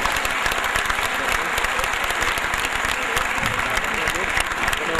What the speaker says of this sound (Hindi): तालियों की गूंज से इनका इस्तकबाल हो।